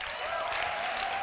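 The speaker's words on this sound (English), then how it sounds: "let's give them a round of applause" An audience at an educator awards banquet claps in a dense, even wash of applause, fairly faint and continuous over the short stretch.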